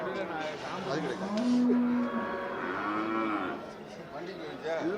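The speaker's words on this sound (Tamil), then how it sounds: "இது காங்கேயம் நாட்டு நாட்டு இனத்தில் சேர்ந்த காங்கை பசு மாடு" A Kangayam cow moos in long, low calls, several drawn-out lows one after another, with farm background noise around them at a cattle market.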